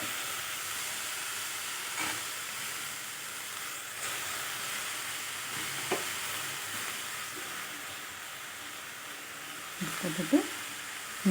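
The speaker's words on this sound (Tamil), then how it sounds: "அந்த நெய்லேயே நல்லா கொஞ்சம் வதக்கி விடணும் ஒரு ரெண்டு நிமிஷம்" Chopped ponnanganni greens sautéing in ghee for a curry, giving a soft steady sizzle and hiss with occasional faint stirring scrapes and a few light clinks near the end.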